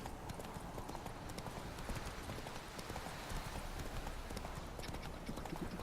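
Horse hooves clip-clop steadily in The Witcher 3 as the rider gallops along, a dense continuous rhythm of hoofbeats over game ambience, with no talking.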